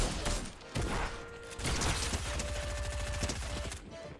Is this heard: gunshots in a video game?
yes